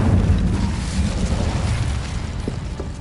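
An Incendio fire spell erupts in Hogwarts Legacy, a loud, dense roaring burst of flame that dominates the opening and slowly tapers over a few seconds.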